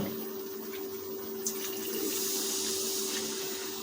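Water is poured into a pot of chicken skin and pea ghugni curry. A faint, steady splashing rush swells midway, with no voices.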